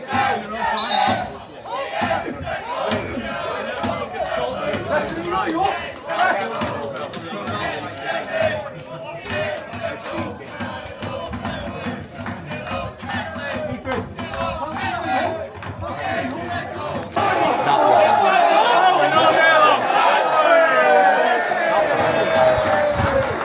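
Football crowd at an FA Cup match roars and chants continuously near and loud, swelling into a louder, sustained roar in the final seconds, with a voice talking over it.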